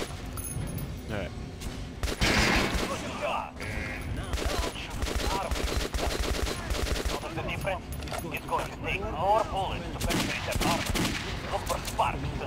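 Rapid video-game gunfire from Metro Last Light, with repeated shotgun and automatic weapon bursts crackling in dense volleys throughout, loud and close, with occasional voices underneath.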